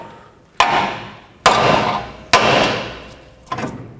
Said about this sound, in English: with a hammer, hammer on the knuckle right here